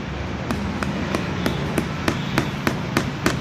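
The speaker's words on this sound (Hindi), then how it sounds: "अभी कीलें ठोक रहे हैं" Nails being hammered into a motorcycle's plastic seat cover during a bike repair, about ten sharp, evenly spaced hammer strikes over a steady background hum, close and clear.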